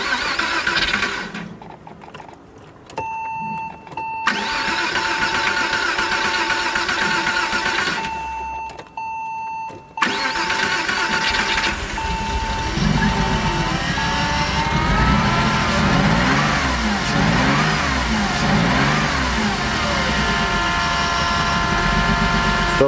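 A Porsche Boxster engine cranks, catches and runs roughly with a misfire and a fuel leak. A steady close engine drone with uneven pulsing fills the clip after brief stops and restarts near the start.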